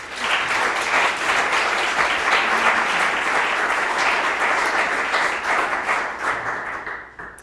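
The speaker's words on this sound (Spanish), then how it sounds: "La recibimos con un fuerte aplauso." Warm, steady applause rises from an audience at a religious life conference to welcome a speaker, a dense wash of many hands clapping for several seconds before tapering off at the end.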